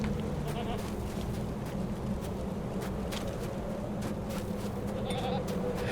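Goats bleat repeatedly in the online game Lord of the Rings Online while being led to a cave. The calls come in short bursts over a steady ambient background and footsteps, at a moderate distance.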